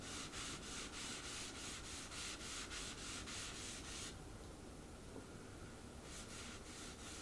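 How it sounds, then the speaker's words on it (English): Steady dry rubbing of a cloth working wax oil into a dry mahogany console table frame, close and continuous with a rhythmic back-and-forth swish and no voices. "applying the first coat of Gilboy's wax oil to the frame"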